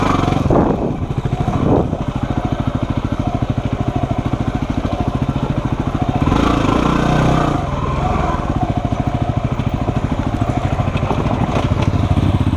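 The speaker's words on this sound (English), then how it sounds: "That's my bike. That's an XR 250, I think." A Honda XR 250 motorcycle engine runs steadily nearby with a fast, even thumping idle, rising briefly in the middle before settling back, with no speech over it.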